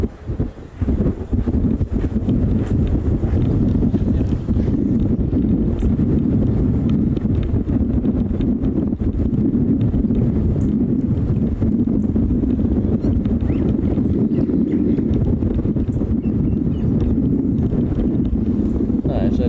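Heavy wind buffeting a microphone outdoors at an airport on Maui, a constant loud low rumble filling the whole stretch with steady gusty roar.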